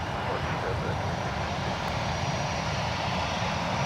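A Boeing 757 jet at Minneapolis–St. Paul airport gives off a steady, broad engine roar that holds at an even level throughout, with no talk over it.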